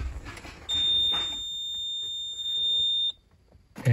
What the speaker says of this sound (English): the VSC buzzer should sound